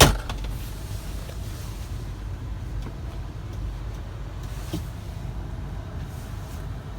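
Power moonroof of a 2003 Toyota Highlander Limited running in a steady low motor hum inside the cabin, a continuous mechanical drone with a few faint clicks, no talking.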